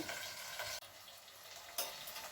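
Fish frying in a pan as a Telugu-style fish fry cooks, with a steady, close sizzle and crackle that dips briefly and then surges louder near the end.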